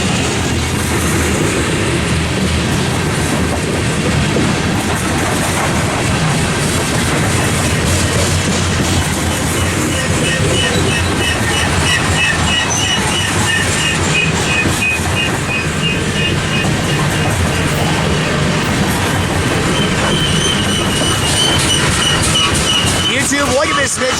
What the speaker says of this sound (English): I believe this is the heaviest train BSF moves on their system